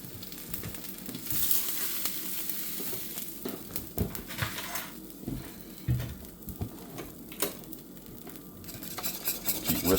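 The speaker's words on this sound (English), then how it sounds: "keep whisking it a little bit more" Egg nog mixture whisked in a pot just off the heat, a quick irregular scraping and swishing of the whisk against the pan, fairly close and unbroken by talk.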